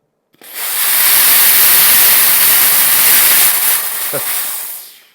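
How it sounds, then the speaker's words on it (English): Loud, steady air hiss from a Benjamin recharge compressor's hose valve bleeding off pressure, starting abruptly with a click and holding for several seconds before tapering away. "So you're going to hear a loud hiss."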